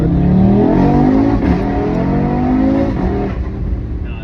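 A tuned Audi RS3 8Y launches hard, its engine a loud, close, rising roar that revs up through several seconds of strong acceleration and then eases slightly at the end.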